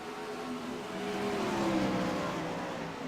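Wingless race cars roaring through a racing video game replay, a sustained engine howl that builds in pitch and loudness mid-way, then holds steady as the cars pass.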